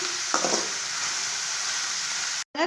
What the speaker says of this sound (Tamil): எல்லா காயுமே சேர்த்து வதக்கலாங்க